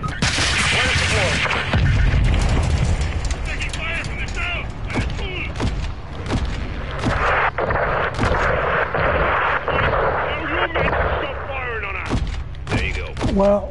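Heavy weapon fire on a building in a PS4 war game, booming artillery-like shots and mechanical clanks repeating over a busy battlefield, with voices talking.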